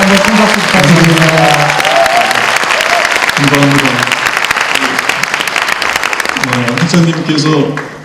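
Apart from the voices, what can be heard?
audience applause at graduation ceremony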